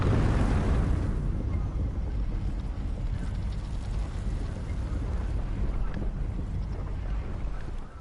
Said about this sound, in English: we're riding up the lift